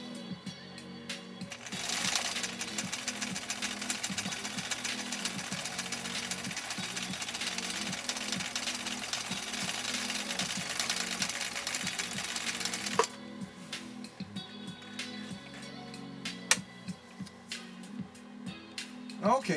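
A 1962 Husqvarna Viking Type 21E sewing machine runs a decorative stitch from cam A with the slider in position 3, whirring close and steady for about eleven seconds, then stopping, followed by light handling clicks and faint talk.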